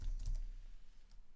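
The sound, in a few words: computer keyboard typing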